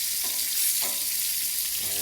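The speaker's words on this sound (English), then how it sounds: "That's the moisture coming out of those onions as they hit the bacon grease." Onions sizzle and crackle in hot bacon grease, a constant frying hiss with a few brief stirring scrapes, close up and no talking.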